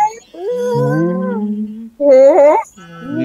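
People vocally imitate a female gnoll calling to its pack during a fantasy tabletop role-playing game: two loud, close howling yips, the first long and sliding down in pitch, the second shorter and wavering, with several voices joining in.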